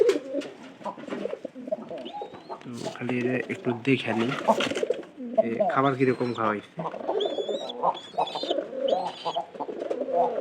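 Pigeons coo softly in a loft where squabs are kept, the low repeated calls sitting beneath a man's nearly continuous close talk.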